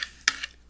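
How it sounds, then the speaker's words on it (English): A salt and water mixture stirred by hand in a bowl for fake snow, heard as a few short, close gritty scrapes and swishes separated by brief pauses. "Then you're going to add the water. Just a little. And mix."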